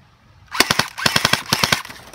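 An airsoft gun fires during an outdoor airsoft game, with three quick bursts of crisp, snappy shots in a fast, even rhythm, close and loud, with no talking.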